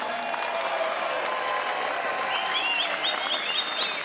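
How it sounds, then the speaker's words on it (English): Crowd at a BAMMA mixed martial arts event applauding both fighters after a main-event bout, a dense steady wash of clapping with a few whistles rising toward the end, heard from within the arena. "So round of applause for both fighters, come on."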